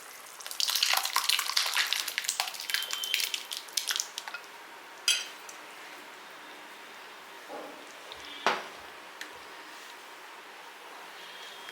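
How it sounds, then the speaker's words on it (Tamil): Wet sloshing and splattering as crushed potatoes are tipped into a pot of simmering gravy, then a few soft clinks and quiet bubbling afterward. "இப்போ நம்ம நசுக்கி இந்த மாதிரி நசுக்கி வச்சதை வந்து இதில் வந்து கொட்டிடலாம்"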